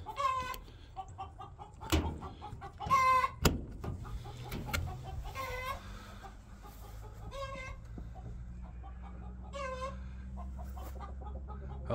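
Chickens in a mobile coop cluck and squawk in repeated bursts, close by, with occasional knocks and thumps in the background.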